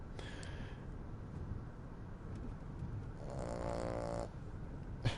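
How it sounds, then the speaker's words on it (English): A dog snores loudly indoors in a long, steady rasping breath that swells in the middle, with faint room noise around it and a brief click at the end. "Sorry, that's my dog. She snores really loudly."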